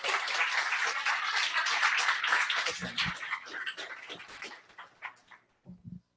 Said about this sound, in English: So big round of applause for Jacopo and Transferwise.